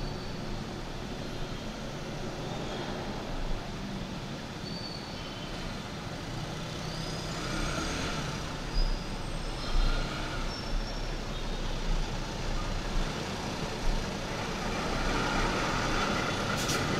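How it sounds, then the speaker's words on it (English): A truck rumbles along C-3 Road in Caloocan City amid busy traffic, with low engine drone, passing vehicles and a few brief hissing or squealing bursts, moderately distant and steady throughout, with no talking. "Truck dito."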